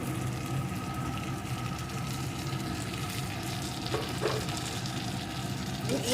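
Egg brinjal fry sizzles steadily in a pan as it is stirred and mixed, a soft continuous frying hiss with faint scraping, no talking.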